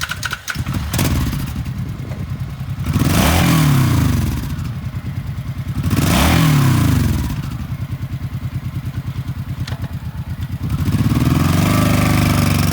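A used 2013 Suzuki C90T 1500cc cruiser motorcycle engine running close up, a steady low rumbling idle broken by several rising and falling revs.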